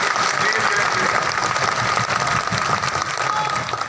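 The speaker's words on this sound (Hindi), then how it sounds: "तालियों के साथ स्वागत करिए।" A large crowd at a BJP workers' conference in a stadium in Keshkal applauds with thick, continuous clapping that stays loud and even from start to finish.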